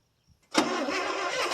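A 1973 International 1110 truck with a V8 engine, not started in about five years, cranks and catches on a cold start, then runs steadily and loudly right after a couple of faint clicks, with no talking.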